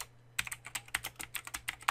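Close, brisk typing on a computer keyboard while entering text into a legal pleading template, with quick irregular keystrokes running steadily throughout and no talking.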